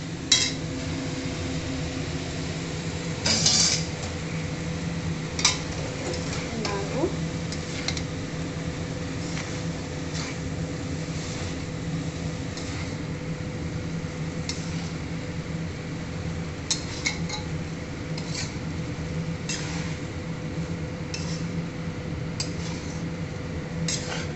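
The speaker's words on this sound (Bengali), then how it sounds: "এবারে সেদ্ধ করে জল ঝরিয়ে রাখা চাউমিনটা দিয়ে দেবো।" Boiled, drained chowmein noodles go into a pan with onion and are tossed, giving scattered metallic clinks and scrapes of utensil on pan over a steady low kitchen hum, with no talking.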